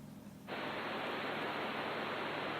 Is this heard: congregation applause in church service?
no